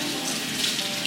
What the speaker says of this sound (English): So just run cold water on.